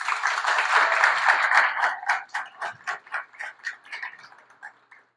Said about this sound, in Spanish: a quienes pido un fuerte aplauso, por favor.